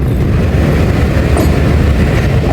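A passenger train pulling out of Jhelum station, with a loud, dense, continuous rumble of the rolling carriages heard from on board.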